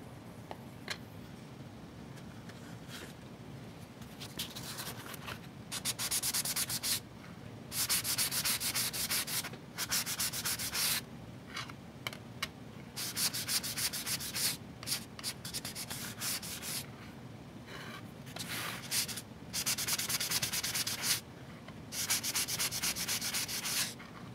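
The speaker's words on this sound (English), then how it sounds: "I'm going to do a light sanding across the top just to give it a little bit of tooth." Continuous scratchy sanding of silver metal strips with rhythmic back-and-forth strokes, close up, pausing briefly now and then.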